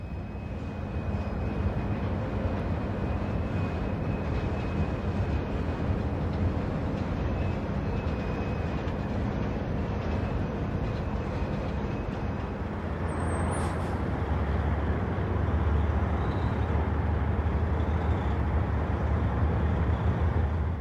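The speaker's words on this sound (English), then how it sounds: "The single SD40-2 has a lengthy train in tow" A long freight train hauled by a single SD40-2 diesel locomotive rumbling past steadily in Cincinnati, with continuous rolling clatter and a deep engine drone that grows heavier toward the end.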